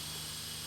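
An airplane drones overhead in a video game, a steady broad whooshing roar with a low hum underneath, brief and constant in loudness.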